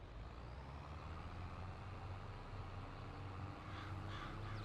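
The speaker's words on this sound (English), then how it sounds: "Ciao, crows. You bums." Crows caw in the farm game Farming Simulator 22. The calls are faint and distant over a steady, loud rumble of engine or vehicle noise.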